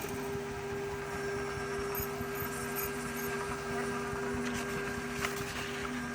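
FocusInc Cobra-69S single-pass corrugated cardboard printer running a nozzle check print with its vacuum on: a continuous, steady mechanical whir and hum with faint rattling, unchanging throughout.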